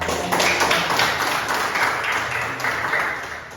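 Students in a classroom clap in steady, dense applause, loud and close, continuing evenly throughout with no talking over it.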